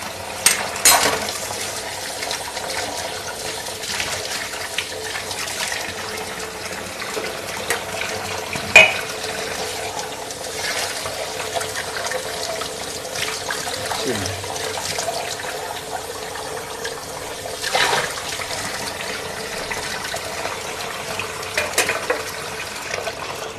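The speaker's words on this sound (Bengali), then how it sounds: "এগুলো থালা বাসন ধুতে হবে।" Plates and pots scrubbed and rinsed under a running tap, with a steady wash of water and a few sharp clinks of dishware near the start and middle, no talking.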